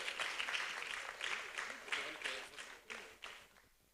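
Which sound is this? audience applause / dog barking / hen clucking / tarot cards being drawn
audience applause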